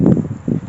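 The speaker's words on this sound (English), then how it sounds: "It's getting very windy now." Wind gusts outdoors in a cemetery, rumbling against the microphone in two rough, low buffeting bursts, close and fairly loud.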